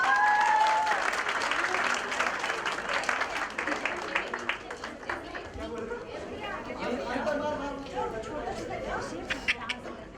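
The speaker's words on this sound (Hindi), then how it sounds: "मैं चाहता हूँ इस लवली मोमेंट के लिए जरा जोरदार तालियां हो जाए प्लीज" Loud applause at a sangeet wedding celebration, dense clapping at first that thins over time as crowd chatter and voices take over beneath scattered claps.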